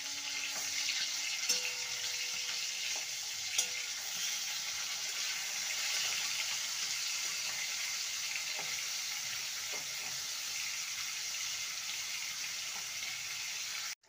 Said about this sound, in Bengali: মাছগুলোকে ভেজে নেব। এবার মাছগুলোকে উল্টে দেব।